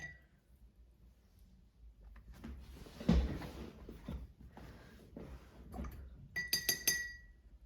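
Glass jar of dirty acrylic painting water being emptied and refilled, with clinks of glass, a sharp knock, and light splashing and trickling that end in a few bright ringing taps.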